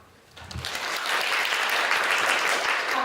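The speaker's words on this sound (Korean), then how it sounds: "박수 감사드립니다" Audience applause at a university essay contest, starting faint and swelling within half a second into steady, dense clapping that holds to the end.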